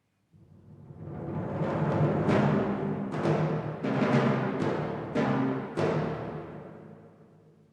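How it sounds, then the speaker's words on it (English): Orchestra renders the hunters' gunshots from Peter and the Wolf: a swelling ensemble passage punctuated by about six sharp, loud percussive hits spaced roughly a second apart, with no talking. "this is the sound of the guns the hunters fire."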